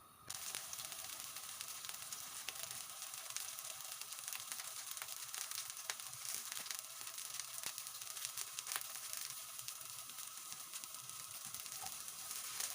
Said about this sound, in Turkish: Isıttığımız tavamızın İçine biraz yağ ekleyip köftelerimizi kızartıyoruz.